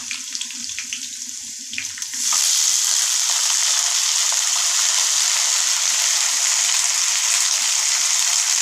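Vegetables hit hot oil with roasted garlic, cumin and green chilli for a festival meal, and a loud, steady sizzle takes over after a quieter start and fills the rest of the clip.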